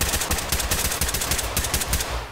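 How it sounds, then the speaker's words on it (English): Rapid gunfire in the tactical shooter Ready or Not, a dense run of sharp, loud bursts in quick succession with barely any gap, close and unbroken. "Haven't you heard the gunshots?"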